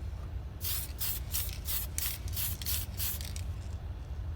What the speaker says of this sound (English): not all spray cans spray the same